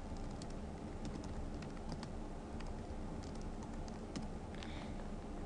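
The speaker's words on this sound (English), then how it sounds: "just type a couple random words here and there" Fingers tap quickly on a computer keyboard, close and fairly quiet, a steady patter of keystrokes over a constant background hum with no speech.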